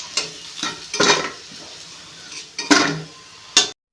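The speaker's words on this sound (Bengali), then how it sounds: "তেলটাকে গরম করে যে আলুগুলো সিদ্ধ করে রাখা ছিল সেটা তেলে হালকা পরিমাণ ভেজে তুলে নিতে হবে।" Boiled potatoes frying lightly in hot oil in a wok, loud close sizzle bursts with several spatula scrapes and clinks against the wok, then an abrupt stop.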